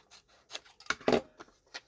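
Scissors cutting paper for a cake-themed scrapbook page kit, a few short, close crisp snips with soft rustling of the sheet between cuts.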